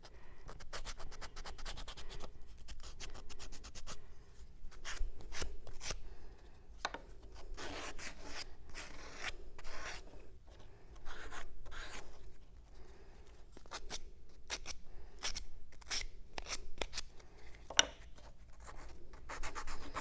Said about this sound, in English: So I'll just put my sandpaper in, sort of fold it over, and rub this back and forth.